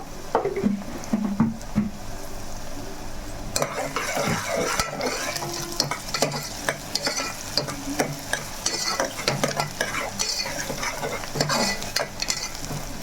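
Onions frying with rock salt in a pan, stirred steadily with a metal spoon that scrapes and clinks against the pan over a continuous close sizzle, with no voices.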